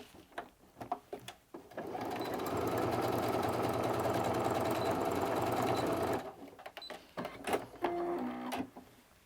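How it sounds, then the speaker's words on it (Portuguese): A sewing machine stitches a fabric bag in a single steady run of about four seconds, close and even, framed by brief handling taps and fabric rustles before and after. "e aí eu volto a costurar aqui em cima."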